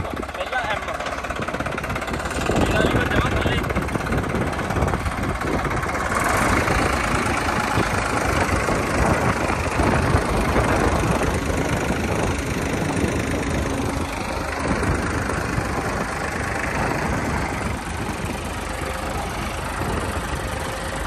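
A New Holland tractor engine holds a steady low-revving drone in a small gear, continuous and fairly loud for the whole stretch.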